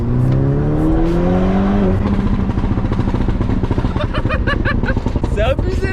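A Stage 2 Volkswagen Golf 6R running on ethanol at about 380 horsepower revs loudly nearby, its engine note rising and falling, then its exhaust pops and crackles in rapid bursts while people talk over it.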